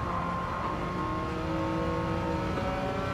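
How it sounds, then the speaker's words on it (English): A Porsche race car in Gran Turismo 7 winds up its engine, a steady, loud, whining drone with rising tonal lines and no pauses throughout. "Alright, let's let her wind up."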